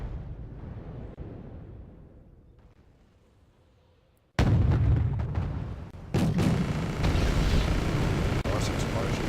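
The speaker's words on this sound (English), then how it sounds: "Nice explosion." A loud, close explosion bursts out after a quiet stretch of low rumble and distant battle noise, followed by heavy sustained blast and gunfire din from a tank battle video game with T-80s and Abrams.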